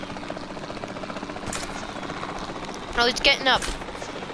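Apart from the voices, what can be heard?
helicopters in Jurassic World Evolution 2 video game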